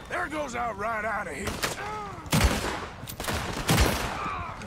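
Pistol shots in Red Dead Redemption 2 crack out as a few sharp, loud reports spaced irregularly, with someone talking over and between them.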